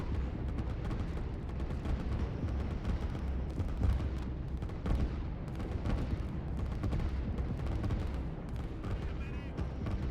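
Two artillery pieces in a defensive line fire in the strategy game Line War, giving steady booming shots amid ongoing battle gunfire while a caster talks over them.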